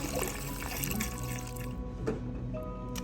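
A full 32-ounce container of vegetable broth is poured into a soup pot for butternut squash soup, giving a steady, close liquid splash and trickle that carries on without a break.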